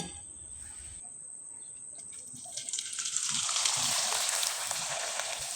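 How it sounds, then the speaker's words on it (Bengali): Rice flour pitha dropped into hot oil, a faint hiss that swells into a bright, crackling sizzle about halfway through and holds steady, with a thin high whine running throughout. "এবার চলুন কয়েকটা পিঠা আমি তেলে ভেজে দেখিয়ে দিচ্ছি"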